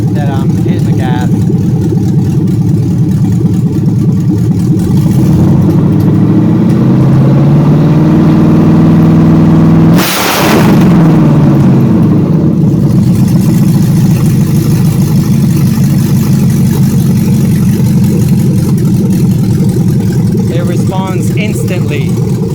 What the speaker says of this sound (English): Gas pedal, so I'm going to give it a little bit of a speed up on the revs